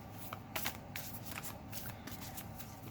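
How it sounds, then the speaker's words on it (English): A card is drawn from a tarot-style advice deck, its rustle and soft shuffling clear over a faint background hiss, with a few quick sliding strokes and no talking. "I'll go ahead and pull your advice card for this situation"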